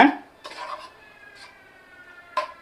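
A spoon scrapes and clatters in a pot as coconut milk is stirred into mutton biryani, a sharp knock at the start, then softer intermittent scraping and a second clink near the end.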